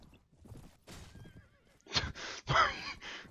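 Horse in Mount & Blade Warband giving a shrill whinny in several quick, harsh bursts near the end, after softer thuds and clattering hoof sounds, fairly quiet overall with no voices.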